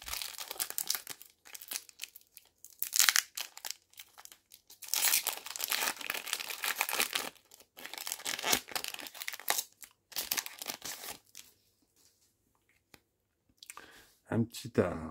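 A Pokémon trading card booster pack is torn open and handled, its foil wrapper crinkling and crackling in bursts separated by brief quiet gaps, close to the listener, with occasional talk in between.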